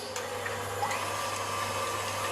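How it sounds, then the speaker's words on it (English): A stand mixer fitted with a whisk attachment beats egg whites for a cheesecake, giving a steady, even motor whir with a faint airy whisking texture that holds without pause. "we're going to come with our egg whites. And begin whisking."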